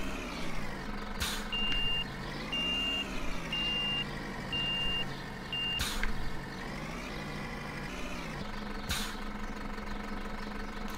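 A truck in the Cityconomy driving game backs up with a steady, regular reversing beep over a low idling engine rumble, the beeps repeating evenly before stopping as the engine hums on.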